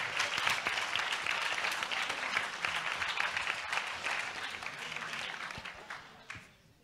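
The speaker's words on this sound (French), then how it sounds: "je vous demande de les applaudir avant de leur laisser la parole" Audience applause after a speaker's request at a Teen's Up Bordeaux careers event, dense steady clapping from a crowd lasting several seconds before tapering off at the end.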